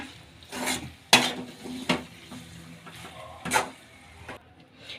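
A utensil stirs macaroni pasta with coriander leaves in a pan, giving a few distinct scraping strokes over a low background rumble.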